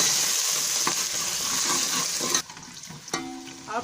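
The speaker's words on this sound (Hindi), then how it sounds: "इसमें अदरक और लहसुन का पेस्ट डाल देंगे और थोड़ी देर चम्मच चलाएंगे" Chopped onion with ginger-garlic paste sizzles and crackles in hot oil while a spoon stirs it, steady and close for a few seconds before a brief clatter and scrape near the end.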